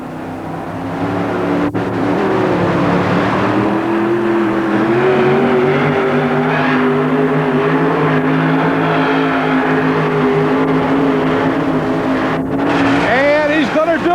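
A Chevy 4WD pulling truck called Mr. Sparkle, from Miramar, Florida, revs its engine in a long, loud, sustained roar at a 1991 truck pull in Tampa Stadium, with an announcer's voice and crowd noise underneath.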